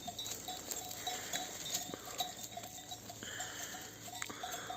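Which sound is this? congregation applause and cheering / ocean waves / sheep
sheep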